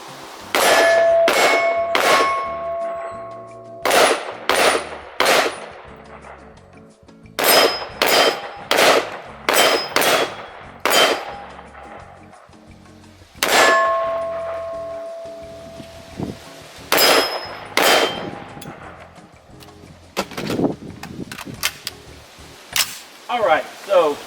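Shots from a Radical Firearms RF15 AR pistol ringing off steel targets outdoors, sharp bangs in quick groups of two to four with long metallic rings trailing each, loud and close, with a voice speaking between groups.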